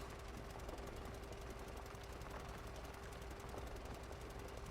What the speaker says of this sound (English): Just started to drill.